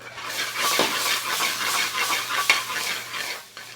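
Ginger, garlic and salt sizzle in a hot curry pan for chicken tikka chilli masala while a spoon stirs them in steady scraping strokes, with a clear utensil clack near the end.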